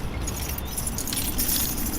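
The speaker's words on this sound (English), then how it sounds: "so you're going to put your keys in." Car keys jangling close by as they go into the ignition of a manual stick-shift car, a bright, continuous metallic rattle lasting about two seconds.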